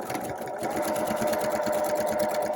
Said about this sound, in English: Let's start this off. Let's backstitch that.